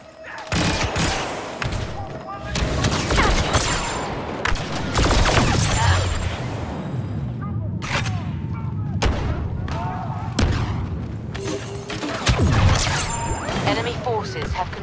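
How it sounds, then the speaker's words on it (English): Grenade blast and sustained gunfire in the Star Wars Battlefront II extraction mode, with loud repeated bursts and booms layered throughout, under game voices and radio callouts. "Grenade out!"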